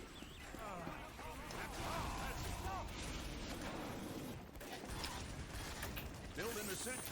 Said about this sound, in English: Building the sentry.